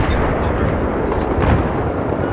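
Mortar fire in a multiplayer shooter video game, a loud, sustained rumbling roar of blasts and impacts that merge into one continuous wash of low booming noise, with no talking.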